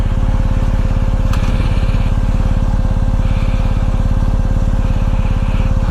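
A BMW R1250 GSA motorcycle's boxer engine runs at a steady idle close by, with an even low pulsing throb and no change in revs.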